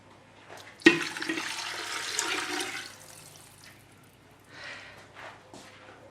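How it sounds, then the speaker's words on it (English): Cola and water poured into a pot roast in a cooking pot, a sudden splash followed by a couple of seconds of gushing liquid that tapers off, then a brief softer trickle later, fairly close and quiet. "I'm going to add a cup of cola and a cup of water to this"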